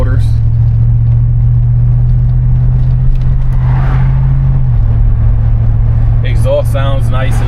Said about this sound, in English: Exhaust sounds nice and throaty as well.